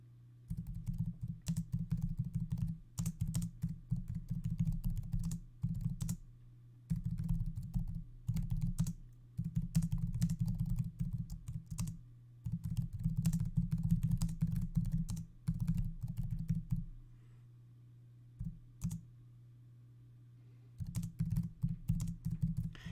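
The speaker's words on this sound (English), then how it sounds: "I just got to type something to share the link" Steady bursts of fast typing on a computer keyboard, close and clear, with keys clicking in rapid runs broken by short pauses, no voices over them.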